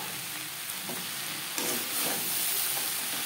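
Chopped sponge gourd goes into a pan of browned onions frying in a little oil, setting off a loud, continuous sizzle with stirring scrapes close by.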